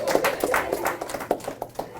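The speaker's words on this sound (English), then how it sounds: "Good, give her a clap." A group of students in a classroom clapping for a classmate, a quick, uneven patter of claps from several pairs of hands, moderately close, lasting a couple of seconds.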